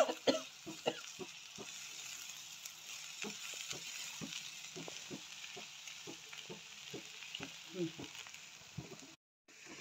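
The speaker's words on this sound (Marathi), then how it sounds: "कोथिंबीर घातली की व्यवस्थित मिक्स करून घेऊ" A spoon stirring a bitter gourd curry with coriander in a hot pan, repeated scraping strokes at a steady rhythm over a quiet sizzle, ending in a brief drop to silence.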